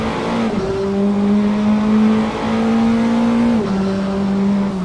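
Praga R1 race car in Assetto Corsa at Barcelona, the engine screaming at high revs with quick upshift dips and a downshift, loud and steady with no talking.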